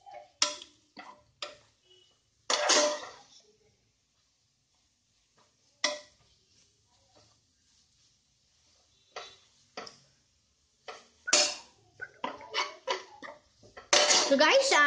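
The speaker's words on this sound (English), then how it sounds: "be mixing it in the onions and just stir fry for some time" Ivy gourd and potato masala stir-fried with onions in a pan: intermittent scraping and clinking of a spatula against the pan in short bursts separated by quiet pauses.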